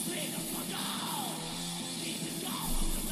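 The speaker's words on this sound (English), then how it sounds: "Did you hear that fucking scream?" A harsh yelled scream from a 1980 death metal demo, loud and distorted over dense, noisy band backing, with a brief swooping cry and a heavy low-end surge near the end.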